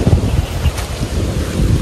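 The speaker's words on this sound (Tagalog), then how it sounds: "yung naririnig ko yung agos ng tubig, sobrang lakas" Rushing water of a rain-flooded creek in Lake Sebu, South Cotabato, a loud, steady roaring rumble dominated by heavy low-end wind buffeting on the microphone, with no talking.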